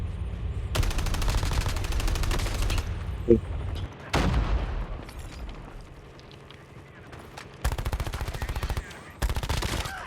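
Rapid machine-gun bursts and heavy gunfire crack loudly in a battle royale video game firefight with sniping, coming in long sustained volleys broken by short pauses and a sharp single boom.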